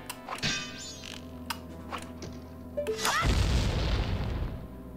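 Explosions in the video game Majora's Mask: several sharp thuds and pops, then a loud, broad boom that rumbles and fades over the last couple of seconds, with game chimes in between.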